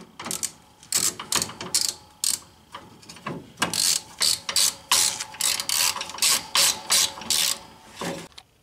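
A hand ratchet clicks in repeated bursts while tightening bolts on the belt drive of a John Deere 4x4 utility vehicle, a close, loud, rhythmic series of sharp pawl clicks with short pauses between strokes.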